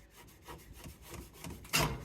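Scrubbing a stove top coated in degreaser: a series of soft, rhythmic rubbing strokes, quiet and close, ending in a louder, harsher burst of scrubbing.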